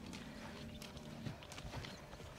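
Steady clip-clop of horse hooves walking at an even pace, fairly close, over a constant outdoor background with no talking.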